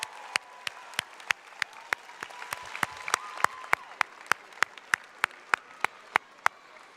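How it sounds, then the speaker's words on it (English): Audience clapping at a high school graduation ceremony, a crowd applauding with many overlapping hand claps, growing into a few prominent rhythmic claps near the end, moderately loud and without speech. "That's your turn to clap for them."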